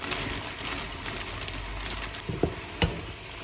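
Carrots, onions, peppers and cabbage sizzle softly in a pan while being stir-fried, with quiet scraping stirs and a couple of brief knocks.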